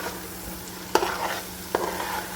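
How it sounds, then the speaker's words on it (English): Carrot halwa (gajar ka halwa) being stirred in a pan, with a steady low sizzle of cooking and two sharp scraping knocks of the spoon against the pan, close by and no talking. "every so often I'm mixing it like this"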